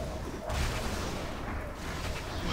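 A moving turret firing in Torchlight II, a steady roar of rapid booming shots rolling on without pause, loud and near, with no voices over it.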